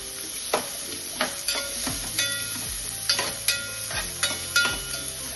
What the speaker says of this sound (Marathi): 2 कांदे कातरल्या ताका आमी बरे तळसून घेवया, बरो भाजून घेवया.